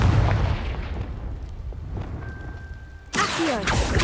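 Confringo blasting spell bursting in Hogwarts Legacy, a sudden loud crackling explosion near the end after a few seconds of muffled rumbling ambience.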